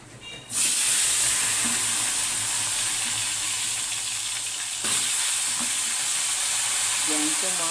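Taro stems and potato are sautéed in hot oil in a pan for a fish curry. The loud, continuous sizzle starts abruptly as they go in and hisses steadily throughout, and a brief voice is heard near the end.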